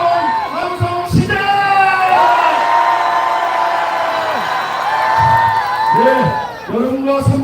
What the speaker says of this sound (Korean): 다시 한번 함성 시작!